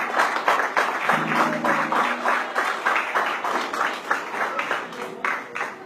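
A church congregation at a Christian missions forum claps in a quick, uneven rhythm, a lively round of hand clapping with a sustained voice or tone briefly rising through it.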